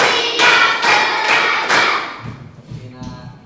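A class claps about five times in a fast, loud, even rhythm during a lesson, and the claps give way to quieter talking.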